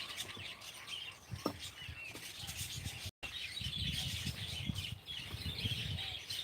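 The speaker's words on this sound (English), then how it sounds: "See the birds?" Birds in a Thai garden chirp in short, scattered tweets over a soft outdoor hiss, fairly close, with no speech.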